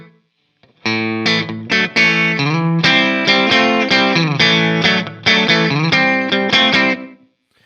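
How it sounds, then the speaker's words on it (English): Distorted electric guitar plays a chordal riff through a room reverb plugin set to a larger room with longer pre-delay, notes ringing into a spacious tail and fading out at the end. "So I'm going to increase the size of the room, but I'm also going to increase that pre-delay so I'm hearing more of that sound bouncing off the walls."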